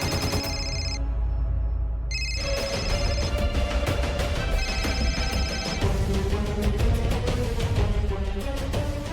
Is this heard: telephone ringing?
yes